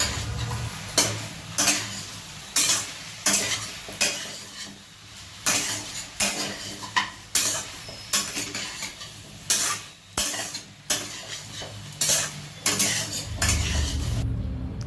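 Ginger paste and vegetables for a Bengali sukto are sautéed in a pan under a low sizzle, with a spoon scraping across the metal in steady, rhythmic strokes about once a second.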